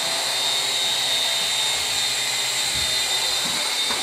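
Toy drone motors spin up and run as a steady, loud, high-pitched whirring whine with a constant hiss, holding at an even pitch for the full few seconds with no talking.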